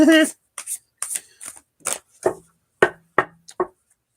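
A deck of cards is shuffled by hand, a series of short crisp riffling bursts and taps in uneven rhythm, close and fairly clear.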